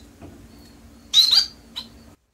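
A small society finch gives a short, bright chirping call at close range in a quiet indoor room, one strong burst followed by a fainter second note.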